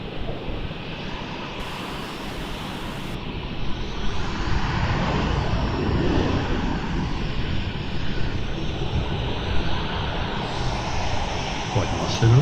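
A Delta airliner pushing back and starting its engines at Melbourne Airport, heard as a broad continuous jet roar and rumble at a distance, steady and slowly swelling, with outdoor wind noise and occasional voices in the background.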